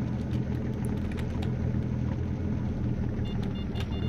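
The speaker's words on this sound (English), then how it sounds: "I'll bring the car a little bit closer and throw the lights on." A car engine in the video game STALKER: The Lost Alpha gives a steady, low, droning rumble that stays even and close throughout, with no voices over it.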